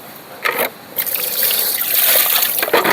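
Very cold water is poured and splashes in short bursts while washing, then pours more continuously, close and fairly loud.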